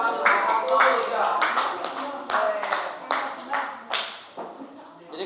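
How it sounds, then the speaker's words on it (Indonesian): Clapping for a student group after its classroom presentation, a handful of people producing sharp, irregular claps close by, thinning out toward the end, with faint talk in the background. "Beri tepuk tangan untuk kelompok 3."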